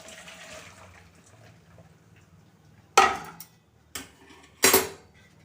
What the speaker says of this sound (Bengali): আমি জলটা ঝরিয়ে নিচ্ছি।